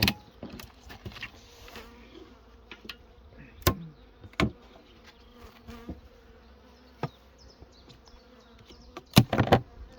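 Honeybees drone steadily around an opened beehive during colony strengthening on rapeseed, a continuous close buzz broken by occasional sharp knocks and clicks from frames being handled.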